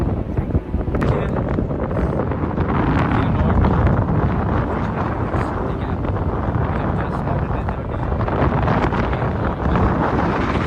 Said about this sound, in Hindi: हवा की आवाज़ सुन सकते हो कि कितनी तेज हवा चल रही है।